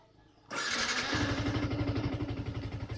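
A Yamaha R15 motorcycle fitted with a PANOM alarm starts remotely: a quiet lead-in, a sudden starter crank, then the single engine catches and settles into a loud, steady, pulsing idle close by.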